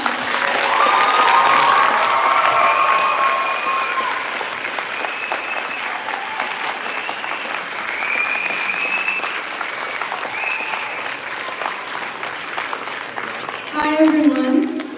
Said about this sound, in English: get ready to clap louder than you've ever clapped before for Pradhanya!